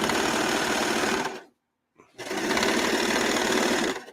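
A sewing machine runs in a fast, steady stitching rattle, stops briefly for about half a second, then starts again and keeps going.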